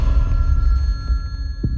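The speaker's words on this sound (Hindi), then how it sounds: "Attend the phone sir." A telephone rings in an office scene of a Hindi-dubbed South Indian action film, a steady electronic ring held over a low rumbling background, with no speech.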